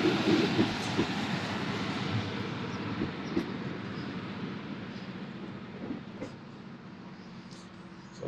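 A train rumbles along the rails near Cardiff station, a loud continuous low roar that slowly eases and thins over several seconds.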